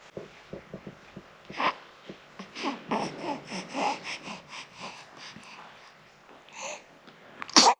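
A newborn baby sneezes and snorts in short, faint bursts with small fussy babbling sounds, and a louder sneeze comes at the end.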